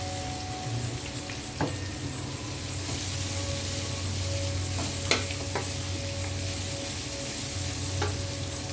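Lechon frying in a pan and being stirred, a steady sizzle with a few sharp clinks of the utensil against the pan, close and continuous.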